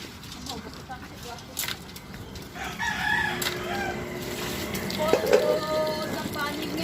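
A rooster crows a few times at close to moderate range in a rural outdoor yard, the calls rising over background chatter and a few clucks, with people talking throughout.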